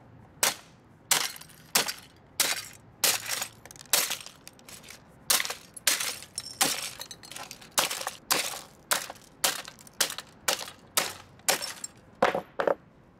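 A plastic GMC toy truck is smashed in a rapid series of about two dozen sharp, loud cracking impacts, each with a short crunching tail, coming in uneven bursts with no talking.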